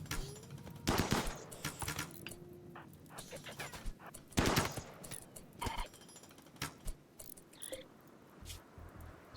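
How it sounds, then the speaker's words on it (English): Gunfire in Echo Wolf Tribe, scattered sharp cracks and short bursts at varying distance over a faint outdoor bed of insect and frog-like chirping. "I'm gonna get some free shots in."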